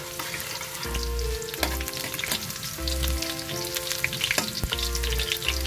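Garlic frying in a hot pan, a loud continuous crackling sizzle close up with a few sharp clinks of a utensil stirring against the metal, with no one talking.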